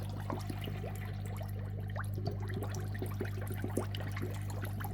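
A Hygger hybrid sponge filter churns water in an aquarium tank, giving a steady low hum with a continuous bubbling, trickling wash and scattered small splashes.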